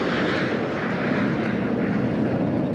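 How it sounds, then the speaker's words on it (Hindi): Jet aircraft engines roar steadily and loudly throughout, from an Indian Air Force Day air show at Hindon airbase featuring Surya Kiran aerobatic jets flying alongside a Globemaster transport. "सूर्य किरण ने एरोबेटिक में ग्लोब मास्टर विमान के साथ करतब दिखाया।"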